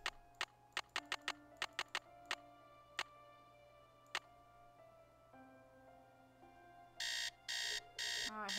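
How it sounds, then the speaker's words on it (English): An alarm in the Nancy Drew: Secret of the Scarlet Hand video game: a series of sharp electronic beeps and tones, irregularly spaced, then three loud sustained buzzing bursts near the end. No one speaks over it. "Alarm."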